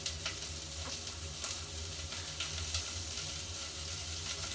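Food sizzles steadily in a pan, a continuous close frying hiss with occasional small crackles and pops throughout, no one speaking.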